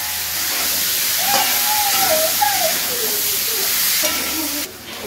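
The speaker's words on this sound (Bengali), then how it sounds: "এবার টমেটো কুচানোগুলো দিয়ে দিচ্ছি। চিড়ে রাখা লঙ্কাগুলো দিয়ে দিচ্ছি। সব কিছু দিয়ে আমি কষিয়ে নেব।" Chopped tomatoes and slit chillies hit a hot pan with eggplant and fish, giving a loud, continuous frying sizzle and hiss with a few faint gliding whistle-like tones over it, then easing slightly at the end.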